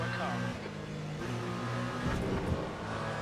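A hybrid LMDH race car engine at Monza in the video game Le Mans Ultimate drones steadily with a buzzing, electric-tinged whine, voices chattering over it throughout.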